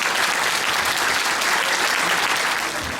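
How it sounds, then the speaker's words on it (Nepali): A church congregation claps to welcome its pastor at a 25th anniversary silver jubilee service in Kathmandu; dense, steady, sustained applause from a large crowd fills the room, fading slightly at the end, with no talking over it. "उहाँलाई हामी ताली बजाएर स्वागत गर्नेछौँ।"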